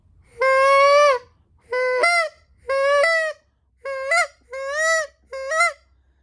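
A person imitates a goose call with a call held behind the bottom teeth, giving six loud, nasal honks in a row, each about half a second long with short gaps, close and alone.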